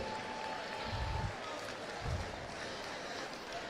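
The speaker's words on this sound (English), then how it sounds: "Let's give those people a round of applause" An audience cheers and applauds for competitive VEX robotics students at a school robotics tournament, a broad crowd wash heard from across the hall with two brief swells.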